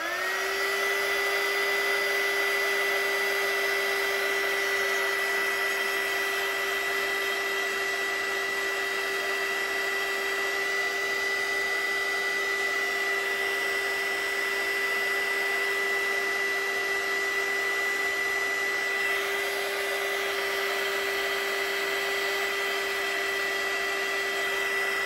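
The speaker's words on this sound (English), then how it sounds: "I'm just going to get my dryer." A hair dryer runs continuously to dry mixed media work on a transparency, a steady loud whine and airflow hum holding unchanged throughout with no talking.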